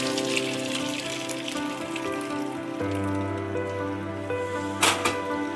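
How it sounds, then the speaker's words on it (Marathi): Curdled milk being strained for paneer for rasmalai, a steady pouring, splashing flow of liquid through a strainer that runs for several seconds, fairly loud and close, with a brief louder splash near the end. "आता आपण हे गाळून घेऊ"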